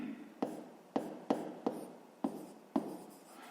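A hand writes a math formula on paper: six quick, crisp scratching strokes, each with a sharp attack and a short fading scrape, close and quiet with brief pauses between them.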